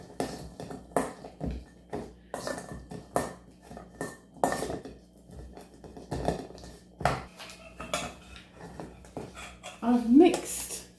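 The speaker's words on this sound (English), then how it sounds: "I've mixed the meat with the mashed potato." Meat being mixed with mashed potato in a bowl with a utensil for a 1940s meat slices recipe, giving repeated clinks and taps of the spoon against the bowl in an irregular rhythm, close and fairly soft.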